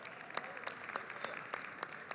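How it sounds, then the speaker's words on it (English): Sparse, distant applause from an audience at a CES panel, with scattered individual claps and a few louder hand strikes standing out over a faint crowd wash. "Give him a round of applause."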